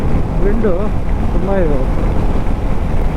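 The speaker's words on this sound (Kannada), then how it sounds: "ಆದರೆ ವಿಂಡು ತುಂಬ ಇದೆ." Strong, constant wind roar buffets the microphone during a solo motorcycle ride near the Andhra Pradesh coast, a low rumble filling the whole stretch with brief tonal whines over it.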